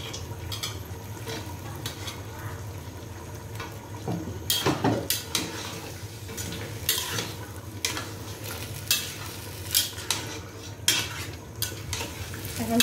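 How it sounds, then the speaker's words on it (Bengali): Carrot, papaya and potato sauté in a pan for khichuri with a low, steady sizzle, while a spatula scrapes and clinks against the pan in repeated sharp strokes, close by. "এখন সবজিগুলো একটু ভালো করে কষিয়ে নিয়ে তারপরে চালটা দিয়ে দেব।"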